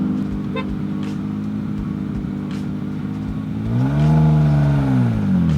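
Nissan Skyline R34 GT-R tuned to roughly 1,000 horsepower, its engine idling in a steady loud drone before climbing into a rising rev near the end, close by with no talk.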